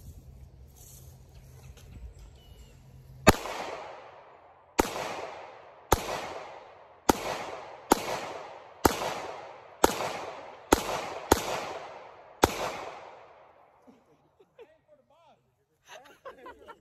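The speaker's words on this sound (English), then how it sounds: "Y'all, I just shot a gun." A series of sharp gunshots at an outdoor shooting outing in Jackson, Mississippi, about nine loud cracks at irregular one-second intervals, each with a decaying echo, following some chatter and breathing.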